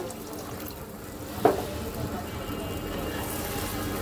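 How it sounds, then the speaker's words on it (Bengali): Water poured into a pot of curry cooked with bottle gourd and shing fish, a short splash followed by a steady filling rush under low background noise. "এই আমি দিয়ে দিলাম ঝোলের জল"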